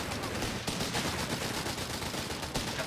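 Bren light machine gun fire in the video game Company of Heroes 3, with dense, continuous rattling bursts amid battle noise, loud and steady throughout.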